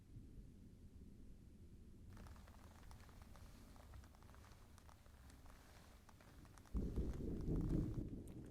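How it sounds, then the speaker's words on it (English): Thunder rolls in as a low, building rumble near the end, under steady rain, fairly faint and without any voice. "Was that thunder?"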